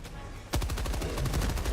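Rapid machine gun fire in the video game Helldivers 2, a dense loud burst of shots starting abruptly after a brief moment of background noise.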